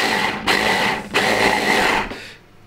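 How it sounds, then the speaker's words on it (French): A kitchen blender whirs through pecans and other ingredients in loud, dense bursts: three runs separated by short pauses, with the last one fading out. "Et on va mixer ça ensemble."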